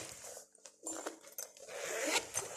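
The zip on a new handbag bought from Amazon is pulled open and closed close up, making short rasping zipper runs with brief pauses between them.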